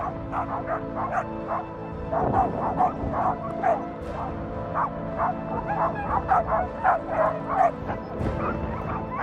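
Several sled dogs bark and yip excitedly close by, overlapping in irregular bursts with whimpers, over a low steady background rumble.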